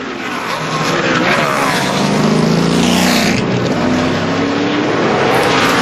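Jeff Gordon's No. 24 NASCAR race car at Watkins Glen in 2011 accelerates out of the pits in fog, its engine a loud, close, sustained roar that climbs in pitch and holds steady.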